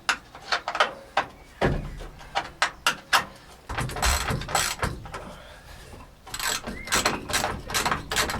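Ratchet wrench working loose old Soviet bolts, a run of sharp mechanical clicks in short bursts, close and fairly loud, with pauses between sets of turns and no talking.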